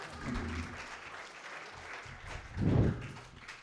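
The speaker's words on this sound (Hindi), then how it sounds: "जनाब यकीन फैज़ाबादी, तालियों से इस्तकबाल हो सकता है" A mushaira audience in Lucknow gives modest applause to welcome a poet, scattered clapping under a murmur of room noise, with a brief louder thump near the end.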